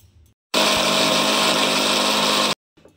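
Mixer jar grinding coconut paste with a little water, a loud steady motor whir lasting about two seconds, cutting in abruptly and stopping just as sharply, with quiet moments before and after.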